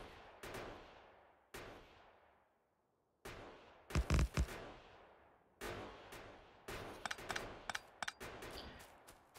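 Sniper turrets firing in the factory-building game Factorio, sharp single shots at spaced intervals, each with a long ringing decay, plus a brief burst of quicker hits, loud and close with no talk.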